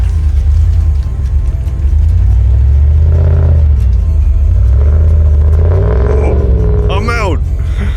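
A truck engine stuck in a ditch during an autumn deer hunt in Alberta, heard as a loud continuous rumble that revs and rises in pitch midway, close to the mic, with a voice talking over it toward the end.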